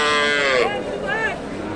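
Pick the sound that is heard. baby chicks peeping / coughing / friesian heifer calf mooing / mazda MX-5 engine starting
friesian heifer calf mooing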